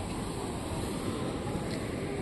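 Sea waves wash onto a beach as a steady, broadband rushing roar mixed with wind buffeting the microphone, constant and fairly loud throughout with no distinct breaks or speech.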